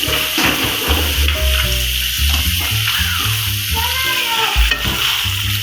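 Fresh milk cream poured into chicken karahi sizzling in ghee, with continuous loud frying hiss and crackle and stirring scrapes close up, no talking.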